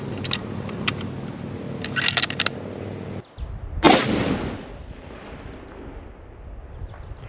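A single loud, sharp 7mm PRC rifle shot fired from a shooting bench outdoors, with a long rumbling decay after it and low background noise before it.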